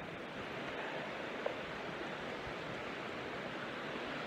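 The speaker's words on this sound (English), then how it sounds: "And then there's the river right there." Vallecito Creek rushes beside a wilderness trail in the Weminuche as a steady, broad roar of flowing water, constant and moderately faint throughout, with no voices.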